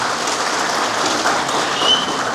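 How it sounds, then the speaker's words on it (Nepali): An audience at a political gathering applauds loudly to welcome a speaker, a dense, steady wash of clapping from many hands with no voices over it. "सबैले जोरदार ताली लगाएर स्वागत गरिदिनुहोस्"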